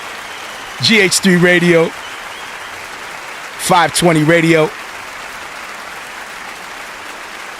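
Applause on a live online radio show forms a steady, dense wash of clapping throughout, with someone talking briefly over it twice.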